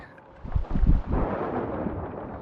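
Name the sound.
thunder and lightning strike in Sea of Thieves video game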